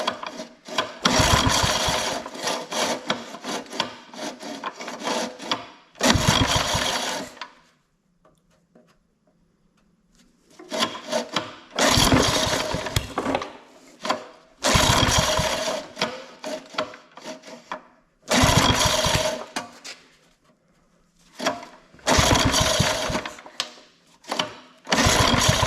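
Someone yanks the starter cord of a vintage 1955 Firestone push mower, making about seven loud, raspy pulls in bursts separated by pauses. The engine never catches, and there is no talking.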